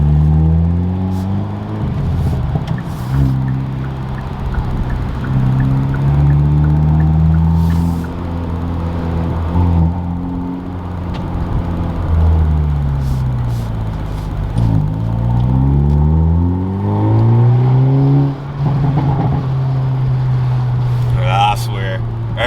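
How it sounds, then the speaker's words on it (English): A Hyundai Elantra or Veloster's tuned exhaust revs up and down repeatedly, with loud engine drone rising and falling in sweeps and sharp pops and crackles on the overrun; a voice talks over parts of it. "Every time I hear that pop and crackle, I smile."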